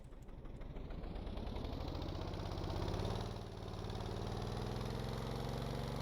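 Cargo train engine in the game Stormworks, held in first gear at full throttle, drones steadily as a low rumbling idle that rises slightly in pitch, then settles; no voices.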